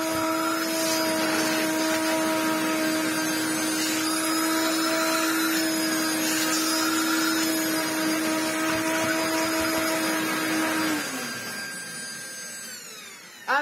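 A vacuum cleaner runs steadily during an airflow test, giving a loud, constant motor whine with a strong tonal hum that holds for about eleven seconds before winding down and fading, with no talking.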